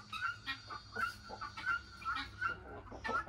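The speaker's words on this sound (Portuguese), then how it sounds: "Aqui do lado tem uma galinha choca que tá fechada já" A broody hen shut in a pen next to the others gives repeated low clucks in a steady, close rhythm, each call short and evenly spaced.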